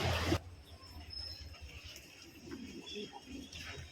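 Pigeons coo softly nearby in the rain, faint low calls after a sharp thump at the start.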